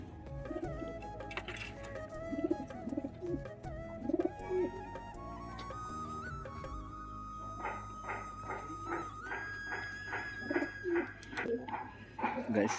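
Domestic pigeons coo repeatedly from a coop on an overcast day, with soft rolling calls recurring throughout alongside other bird sounds, fairly close and steady.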